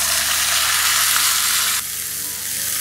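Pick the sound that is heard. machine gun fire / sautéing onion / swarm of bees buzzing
sautéing onion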